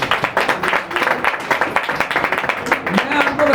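A church congregation claps loudly and unevenly during a Hindi sermon, sharp claps bursting in irregular rhythm while the preacher's voice carries over them.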